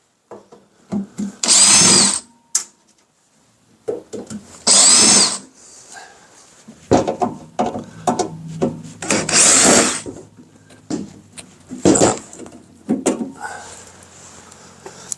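Several bursts of a cordless drill whirring, each a second or so long, with clattering handling and rustling sounds between them.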